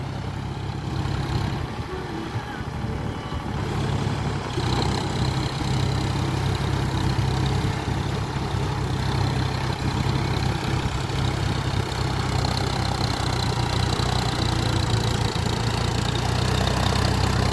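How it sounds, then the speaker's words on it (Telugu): A John Deere 42 HP tractor engine runs steadily nearby, a constant low diesel rumble and drone that holds at an even level throughout with no talking. "మనకి వచ్చేసి జాన్ డీర్ 42 HP బండి"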